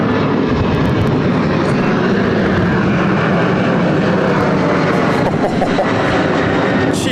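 A heavy aircraft takes off at Sydney Airport, a loud broad continuous engine roar filling the whole stretch with no talking.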